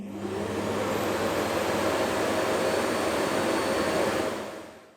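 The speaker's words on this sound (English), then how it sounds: "It's basically like just turning on a normal vacuum cleaner to empty it." A Dreame X30 Ultra robot vacuum's base station auto-empties into its dust bag with a loud, steady vacuum-like roar that holds constant for several seconds, then tapers off at the end.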